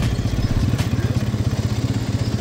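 A 2025 Bajaj Pulsar NS 200 BS7 motorcycle's 200 cc engine runs close by with a throbbing, evenly pulsing exhaust note at a steady idle-to-mid rev, alone without talk.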